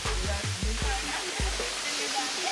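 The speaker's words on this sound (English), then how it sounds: "Just found a beautiful set of waterfalls out here." A waterfall at Gembalem, Bali, pours with a steady, dense rushing roar that stays close and constant throughout, with a few faint low thumps beneath.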